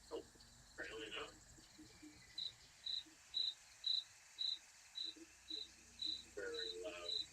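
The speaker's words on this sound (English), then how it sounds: "Very loud crickets." Loud crickets chirping in a video game set in a wilderness lookout, a steady train of evenly spaced chirps sounding close, with faint voices at the start and end.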